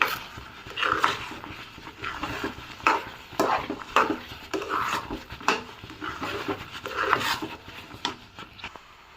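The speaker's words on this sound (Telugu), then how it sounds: "మొత్తం ఒకసారి మిక్స్ చేద్దాము." Motichur laddu mixture with ghee and cashews being stirred by hand in a pan, a series of soft, close rubbing and scraping strokes in an irregular rhythm, with no talking.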